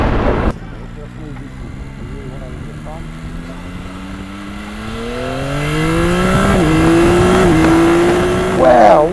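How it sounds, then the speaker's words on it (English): A Yamaha R9 triple-cylinder sport motorcycle engine drones steadily and then climbs in pitch as it revs harder, loud and close, with a sharp throttle blip near the end. "I love a triple, man."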